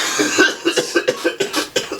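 Harsh, close coughing fit of about ten rapid hacking coughs in a steady rhythm, loud and alone without speech.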